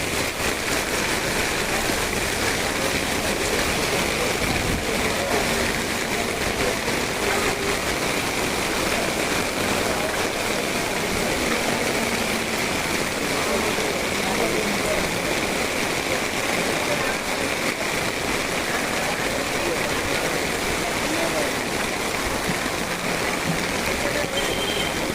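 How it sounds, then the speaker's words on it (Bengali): Heavy downpour over a waterlogged street at the Karampara junction behind Chandgaon police station in Chittagong city, making a dense, steady roaring hiss that never lets up. "প্রচণ্ড বৃষ্টি হচ্ছে চট্টগ্রাম শহরে"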